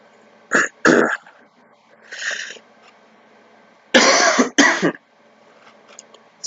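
A smoker's harsh coughs come in bursts, two quick ones, a softer throat-clearing rasp, then two louder hacking coughs close to the listener.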